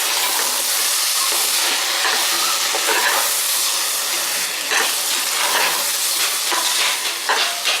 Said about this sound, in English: Now let's add this. Let's stir this well.